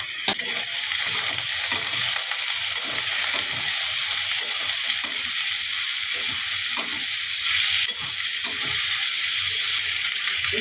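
Potatoes and ripe green chilies fry in a pan for an aloo kundri curry, a steady bright sizzle with occasional stirring scrapes, close and continuous without talk.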